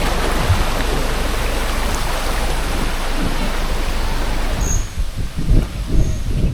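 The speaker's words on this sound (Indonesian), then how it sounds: "Suara angin dan gesekan pohon bambu bikin suasana tenang dan damai." Wind through rustling bamboo beside a river used for tubing in Klaten, a steady dense wash of noise that thins near the end, with a few faint high chirps.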